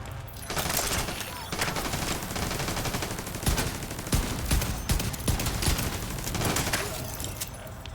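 Rapid gunfire in The Division 2 rattles in repeated bursts and single loud cracks, fairly close and sustained over the whole stretch, with no talking on top.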